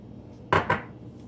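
Lumpy sugar rubbed through a sieve while making donuts, heard as two quick, close scraping strokes in succession against a quiet background.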